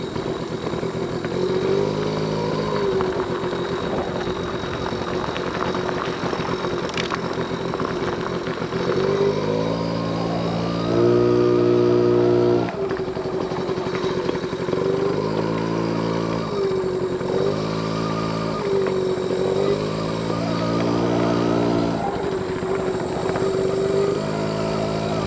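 A 1979 Honda Express moped engine putters steadily as it rides around a yard, its pitch rising and falling repeatedly with throttle changes, close and fairly loud throughout with no talk.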